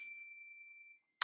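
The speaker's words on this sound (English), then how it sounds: "Woodstock chimes here" Woodstock wind chimes give one faint, pure metallic tone that rings clearly and fades over about a second before a short click.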